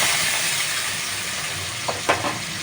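Potatoes and coconut frying in hot oil with asafoetida for a coconut chana dal: a steady, loud, close sizzling hiss throughout, broken near the end by a couple of brief stirring scrapes.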